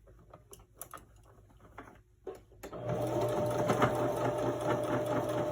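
Sewing machine top stitching a homemade fabric face mask, starting with a few hesitant stitches and short pauses, then running steadily in a continuous whirring rattle for the last few seconds, close and fairly loud.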